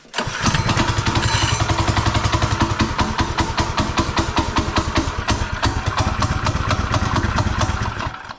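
A small drift trike engine idles loudly and steadily after a pull start, its rapid chugging pulses unbroken from start to finish, close by with no voices.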